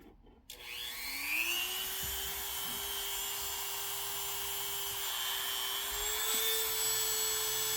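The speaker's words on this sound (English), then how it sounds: "Maybe I gotta drill into that one a little bit more." A power drill spins up with a rising whine and grinds steadily into a metal castle nut on a rifle lower receiver, close and loud, holding a constant high-pitched drone.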